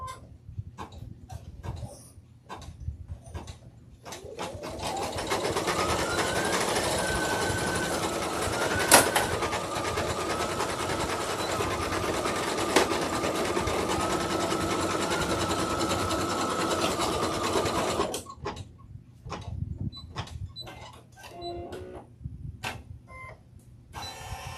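A sewing machine, struggling while stitching a Halloween pumpkin piece, whirs steadily for about thirteen seconds at a rising then level pitch, framed by scattered clicks and handling noises before and after.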